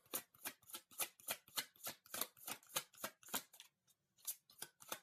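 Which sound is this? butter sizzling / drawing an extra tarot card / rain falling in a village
drawing an extra tarot card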